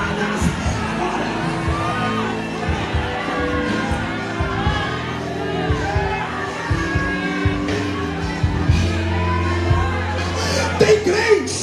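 A church congregation shouts a name together during fervent prayer, hands raised. A dense, loud crowd roar of overlapping voices and cries runs steadily throughout, swelling near the end.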